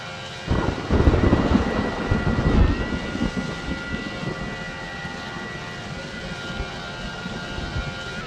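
A fixed-wing airplane in level flight gives a steady, broad engine roar, louder and rougher for the first couple of seconds, then a constant even drone to the end.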